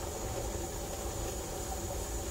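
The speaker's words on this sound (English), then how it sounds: "We have a nice strong and steady stream of steam" A home pressure canner processing ground beef vents a strong, steady stream of steam, a constant broad hiss at low level with no breaks and nobody speaking.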